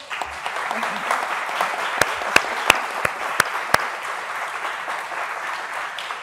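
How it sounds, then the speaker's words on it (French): Audience applause during a closing session of a university event, a broad wash of clapping with a few sharp, close claps standing out in the middle. "j'aimerais un gros tonnerre d'applaudissements pour mes collègues Nathalie et Vanessa"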